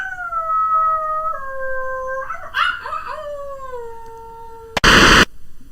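A person imitates a wolf with a long, wavering howl that slides downward over several seconds, broken briefly by a rougher yelping catch midway, then cut off by a sudden loud burst of noise near the end.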